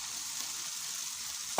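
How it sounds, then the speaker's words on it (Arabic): Seasoned onions sauté in a pan with a steady, close sizzle that holds evenly throughout, ending with a brief scrape or stir just before it stops. "اديها برضه تشويحة كده تدبل شوية"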